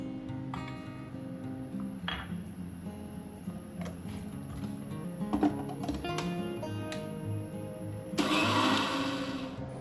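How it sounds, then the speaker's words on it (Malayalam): A kitchen mixer grinder powders sugar with a single cardamom pod for rava laddu, a steady mechanical whir that continues throughout and swells into a louder, harsher grinding burst near the end. "ഇനി ഈ പഞ്ചസാര ഒന്ന് മിക്സിയിൽ ഒന്ന് പൊടിച്ചെടുക്കുക"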